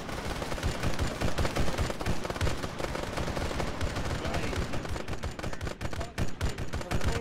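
A turret gun fires in Arma 3 in sustained rapid bursts, loud and close, with dense overlapping gunfire and heavier booms through the whole stretch.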